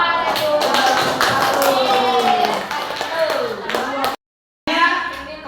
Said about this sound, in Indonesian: Tepuk tangannya, Pak.